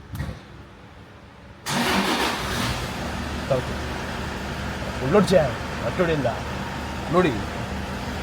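Volkswagen Polo engine starting after quiet: a sudden crank and catch settles into a steady idle hum, with intermittent talk over the running engine.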